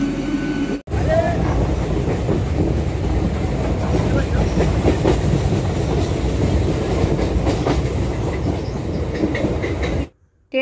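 A train running on the rails after a journey to Howrah, with a loud, steady rumble and clatter heard up close. The noise breaks briefly near the start and cuts off just before the end.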